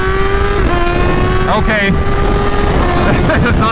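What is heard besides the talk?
Kawasaki Z H2 motorcycle accelerating hard in second gear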